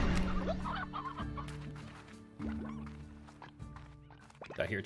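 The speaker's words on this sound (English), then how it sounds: "Did I hear chickens? Chickens?" Chickens in the video game Slime Rancher cluck repeatedly in short, choppy bursts, moderately loud and close, with a few steady tonal game sounds underneath.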